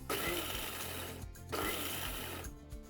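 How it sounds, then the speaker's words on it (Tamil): A kitchen mixer grinder pulses chopped cabbage in two loud bursts, each whirring for over a second, with a brief gap between them. "நீங்கள் பல்ஸ் மோடில் வச்சுட்டு ஒரு ரெண்டு தடவை இல்லை மூணு தடவை ஆன் பண்ணி ஆஃப் பண்ணுங்கள்"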